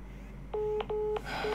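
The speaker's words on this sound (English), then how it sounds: "That's my phone, my apologies." A phone rings nearby, two clear electronic tone bursts and the start of a third, over steady background hum during a SWAT 4 play session.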